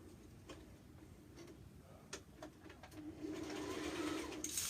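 A sewing machine stitching fabric while a dress is made, giving a faint, quiet run of rhythmic mechanical ticks that grows slightly louder and busier toward the end.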